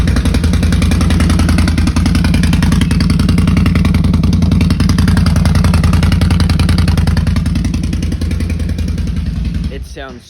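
A 2022 XMR 650 fitted with a straight-pipe exhaust idles and revs loudly and steadily for about ten seconds, a close, continuous rumbling drone with rapid firing pulses that cuts off abruptly near the end.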